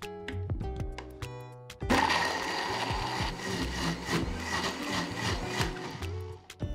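An electric blender starts with a few clattering taps, then whirs loudly and steadily, grinding chillies, spices and dried shrimp with a little water in a gritty, rattling roar.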